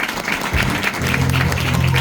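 Attendees at a group meeting clap after a speech, a brief burst of close, fairly loud applause with a low hum underneath.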